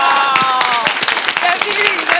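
Audience applause at a live French show, a ragged burst of sharp hand claps mixed with crowd noise, with people talking and calling out over it throughout.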